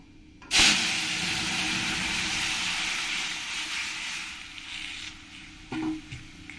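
Mango sour liquid poured into mustard seeds sizzling in hot oil in a rustic village kitchen for mango puti fish tok, a loud sudden hiss bursting up then settling into a steady sizzle, with a brief clatter near the end.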